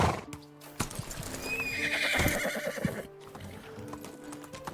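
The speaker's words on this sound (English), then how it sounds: "I knew I left my horse right here somewhere." A video-game horse whinnies loudly and close, with hoof clip-clops and a shuffling rustle around the neigh, and a brief melodic tone at the start and end.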